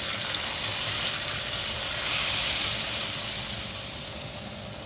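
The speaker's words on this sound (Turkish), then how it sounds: "Tereyağı ve nanemi ilave ediyorum" Steady, loud sizzling and frying crackle as melted butter and mint hit a pot of soup, continuous throughout with a slight fade near the end.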